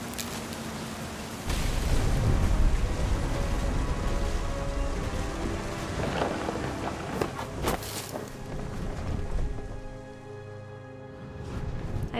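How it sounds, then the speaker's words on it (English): Steady rain with rumbling storm noise in the game What Remains of Edith Finch, a dense wash of downpour with low booming swells and occasional sharper bursts, easing toward the end. "The thunder sounded much too close and full of angry power."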